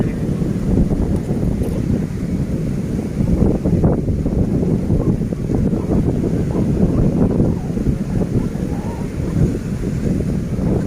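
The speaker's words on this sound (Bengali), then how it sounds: "আর হাওয়াটাও খুব সুন্দর হচ্ছে এখানে।" Wind blows steadily outdoors at Diamond Harbour, buffeting the microphone with a loud, continuous roar and rumble that never lets up.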